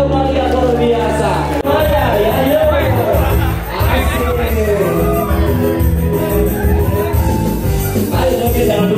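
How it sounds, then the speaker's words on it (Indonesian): A crowd at an outbound company gathering and comedy night in Bandung shouts as loudly as it can, a dense, sustained roar of many voices with whoops that stays loud and close throughout. "Jatuhkan tangan dalam hitungan ketiga sambil teriak sekeras mungkin"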